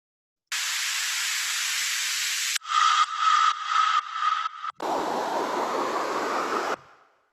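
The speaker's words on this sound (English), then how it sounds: "we have the white noise, which are just some up and down riser effects" White noise riser effects in a tech house track play as three distinct sweeps: a hissing wash, then a gated, stuttering noise section with a faint tone, then a fuller rushing swell that fades out.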